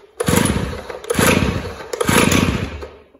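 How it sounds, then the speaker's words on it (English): A Stihl TS410 cut-off saw is pulled over three times, each pull bringing a loud, close, rough burst of two-stroke engine chugging that dies away between attempts. "It's a Stihl TS410, the one you've just seen start up"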